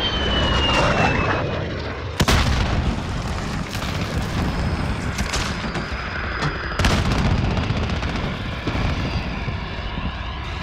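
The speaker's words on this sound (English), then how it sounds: "Friendly VTOL on station for overwatch" A VTOL aircraft engine roars overhead in a video game, a continuous broad drone broken by sharp bursts of gunfire and explosions, loud and close with no voices over it.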